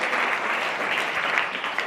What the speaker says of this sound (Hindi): तालियां इन सबके लिए।